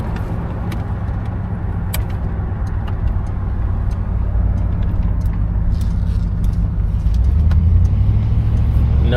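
A 1973 Buick Centurion cruises at about 45-50 mph. The engine and road noise make a steady, loud interior drone with low rumble that swells slightly toward the end.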